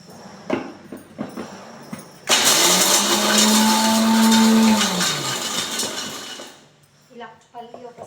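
A mixer grinder spins peanuts in a loud, steady whirring burst lasting several seconds before winding down, with brief clatter and kitchen sounds on either side.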